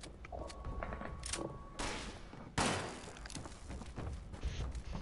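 Enemy gunfire in the Fallout 76 video game, dense bursts of shots and heavy impacts crackling in quick succession, loud and close, with a couple of sharp blasts standing out.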